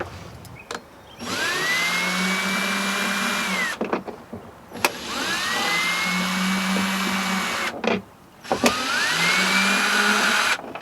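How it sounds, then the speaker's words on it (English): A powered screwdriver or drill backs screws out of an RV window frame in three long whirring bursts with a rising pitch, separated by short pauses, close and steady with no speech. "we are now going to remove the 16 screws"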